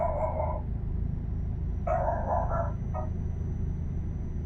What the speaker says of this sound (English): Oh, I can hear the dog.